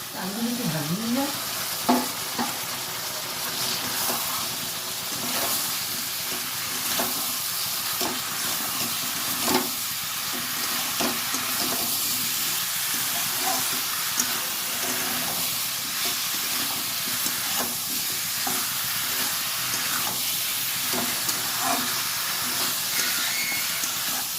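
Flat beans and potatoes frying in a cooked spice paste, a steady close sizzle and hiss with occasional stirring scrapes and no talking.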